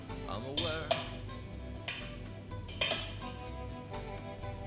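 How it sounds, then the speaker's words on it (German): A metal fork scrapes and clinks against a baking dish, lifting an egg-and-cottage-cheese stuffed tomato onto a plate; several soft, close clinks and taps over a quiet kitchen background. "Am besten löst man sie erst vorsichtig mit der Gabel vom Rand und gibt sie dann auf den Teller."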